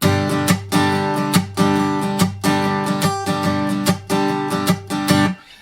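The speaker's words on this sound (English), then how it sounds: "Now, I'm going to slap strum it" Rhythmic guitar slap strumming of blues chords, sharp percussive slaps on the strings in a steady driving pattern, played alone and fairly loud.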